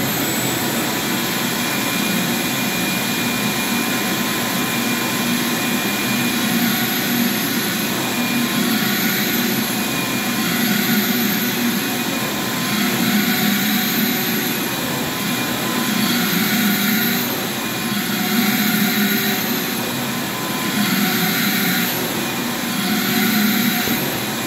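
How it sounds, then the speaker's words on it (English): A wet-dry shop vacuum sucks water out of a freshly shampooed, soaked carpet, giving a loud, steady, high-pitched whine that holds without a break throughout, with only slight swells as the nozzle moves. "So the wet dry vac has something to suck up"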